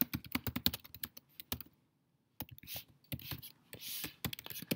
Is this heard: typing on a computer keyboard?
yes